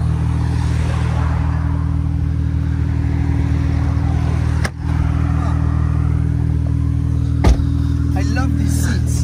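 A decat Porsche Turbo S engine drones loudly and steadily from inside the car, with a low heavy rumble and a couple of sharp knocks, and voices talk faintly beneath.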